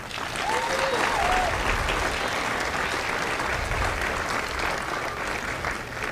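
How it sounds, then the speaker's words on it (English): Applause at a Marine Corps recruit graduation at MCRD San Diego, a broad, steady roar of many hands clapping from a large outdoor crowd, sustained throughout with a few faint shouts mixed in. "a round of applause for the families of the Company E"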